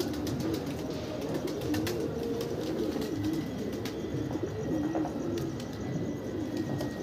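A flock of pigeons, including a Punjabi Laltara male landing, coos in a continuous soft, throaty chorus for several seconds, dotted with sharp clicks and light taps.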